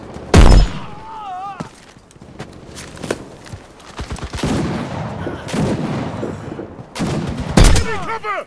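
Machine gun fire and scattered gunshots in a zombie mode of the WWII shooter Enlisted, set on D-Day, sound as sharp loud cracks and short bursts amid battle clatter.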